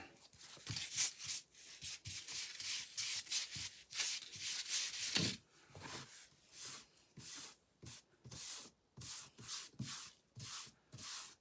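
Steady hand sanding strokes on a candy cane craft piece, bleach sand rubbed up and down in one direction, close and fairly quiet, with even rhythmic rasps continuing throughout.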